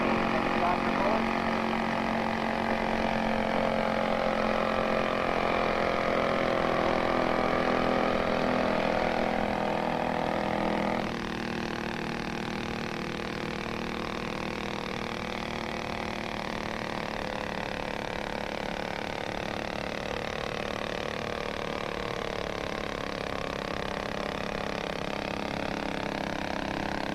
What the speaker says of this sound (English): Tractor going.